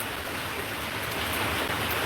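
Steady rain falls continuously, a dense even hiss of drops on surfaces that stays constant and fairly close throughout, with no voices.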